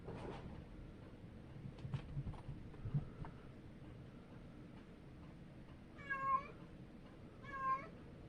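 Two short meows from house cats, a few seconds apart, faint against a quiet indoor background with light rustling.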